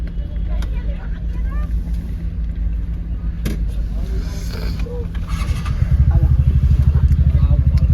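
Low engine rumble and road noise inside a moving car carrying passengers, steady throughout and growing heavier near the end, with occasional clicks and scrapes and voices talking over it.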